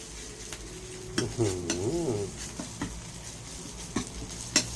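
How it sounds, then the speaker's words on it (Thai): Coriander root, garlic and pepper paste being stir-fried in a pan, with a low steady sizzle broken by sharp clinks and scrapes of the utensil against the pan, plus a brief squeaky warble in the middle. "พอผัดสามเกลือให้หอมก่อนเนี่ย"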